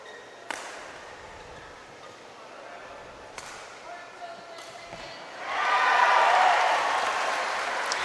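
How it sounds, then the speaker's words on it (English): Audience applause swells up near the end of a long rally at a badminton match in a semifinal of the Philippine Badminton Open, after a few sharp shuttle hits and some quiet crowd noise. "This is the first time we've heard that applause."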